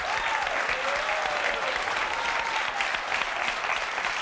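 A French television talk-show studio audience applauds continuously for several seconds, a dense even wash of clapping with a faint voice briefly audible beneath it.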